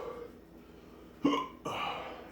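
Sharp hiccups after eating a Carolina Reaper pepper, two loud close gulping jerks about half a second apart with throaty breathing between them, no speech.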